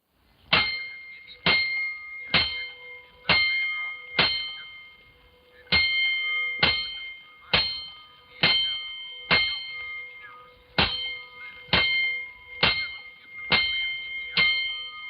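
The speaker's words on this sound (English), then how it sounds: "Five bells." Fire alarm bells clang in a 1949 radio drama, a series of sharp metallic strikes in groups, each ringing out and decaying before the next, with no voices.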